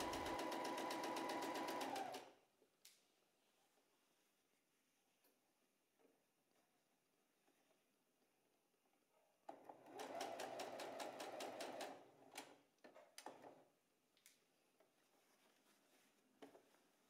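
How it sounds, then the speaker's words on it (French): A domestic sewing machine stitches a blouse seam in two quick runs of rapid, even mechanical ticking, separated by quiet pauses with faint handling clicks and taps. "On va venir coudre à 5 mm du bord"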